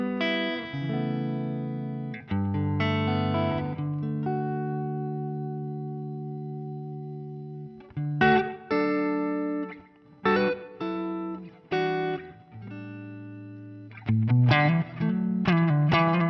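Electric guitar played through a Fractal FM9 modeler, with long sustained chords ringing out first, then short choppy strummed phrases separated by gaps, loud and clean with no talking.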